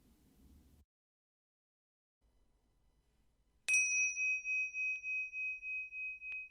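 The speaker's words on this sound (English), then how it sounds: "when you hear the bell, we can finish" A single clear bell strike rings out after a brief silence and leaves a long, pure tone that pulses as it slowly decays.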